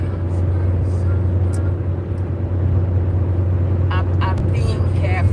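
A car travels along a motorway at about 60 mph in bright sun, giving a steady, loud low road-and-engine drone from inside the cabin throughout, with a few faint higher rustles near the end.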